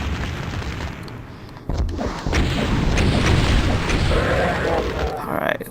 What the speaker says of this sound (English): I shoot 2 rockets here just to kind of like increase the consistency.